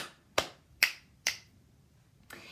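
Three crisp finger snaps ring out close by in quick succession, each sharp and bright with a short decay, followed after a pause by a softer fourth snap.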